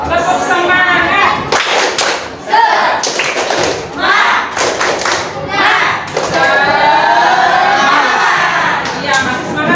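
Classroom of schoolchildren doing a rhythmic spirit-clapping routine, bursts of claps and thumps in patterned groups mixed with children's chanting voices, loud and close throughout.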